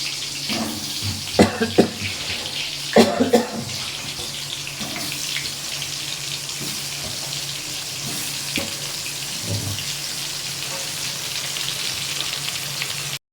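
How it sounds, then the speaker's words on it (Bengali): Whole potatoes are dropped one at a time into hot oil and fry with a steady broad hiss, a few sharper splashes and crackles near the start, then an even sizzle with no talking. "তেলটা গরম হয়ে গেছে, এবার আলুগুলো দিয়ে দিলাম একটা একটা করে।"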